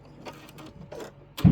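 Embroidery machine stitching the eye, whisker and mouth details on a bunny bench pillow, with soft, irregular bursts of needle tapping separated by short pauses, ending in a louder, low thump.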